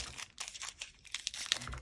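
Plastic or paper packaging is torn and pried open up close, with crinkling, rustling bursts and a few sharper rips, fairly quiet.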